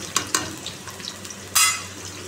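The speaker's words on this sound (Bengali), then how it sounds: "এখন আলু ভাজছি" Potatoes sizzle in hot oil in a pan for a meat curry, a bubbling crackle broken by a few sharp clinks and scrapes of a spatula stirring, the loudest near the end.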